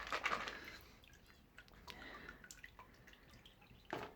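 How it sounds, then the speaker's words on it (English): Excess liquid strains and drips from fermented chicken grain in a flower pot, faint soft trickles and scattered wet drops, close and quiet. "get a good pot worth, strain off all the excess liquid"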